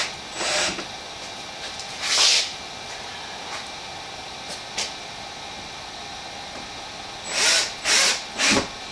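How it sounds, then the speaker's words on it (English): A power drill drives 1-inch sheetrock screws into a wall in short bursts, one near the start and another just after, then three quick close whirs in a row near the end, with quiet pauses between and no talking. "we'll continue putting the screws in all the way to the end, which we've done for you"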